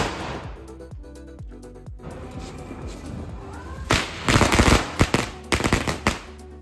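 Diwali firecrackers burst in rapid crackling volleys, sharper and louder toward the end, with dense overlapping pops outdoors.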